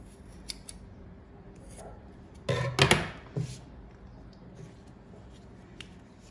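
Scissors make a few quick, crisp snips and a brief cluster of cuts while trimming an egg carton for a craft doll. The cutting sits against a quiet background with no talking.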